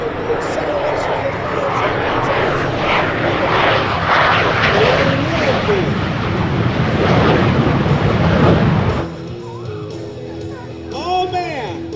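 An MXS aerobatic plane racing the Aftershock jet truck at an airshow, a loud roaring rush of engines passing close, dropping off abruptly toward the end, with crowd shouts and an announcer's voice mixed in.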